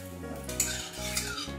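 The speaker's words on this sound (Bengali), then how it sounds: "তেলের মধ্যে আমি সামান্য কালো জিরে, দুটো শুকনো লঙ্কা আর একটা তেজপাতা রেখেছি, এটা ফোড়ন দিয়ে দিচ্ছি" Nigella seeds, two dried chillies and a halved bay leaf sizzling in hot oil for a Bengali kochur loti dish, with a steady close fry hiss and metal utensil scrapes and clinks against the pan.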